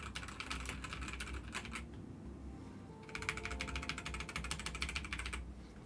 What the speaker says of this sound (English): one of the nice things about this keyboard is the sound.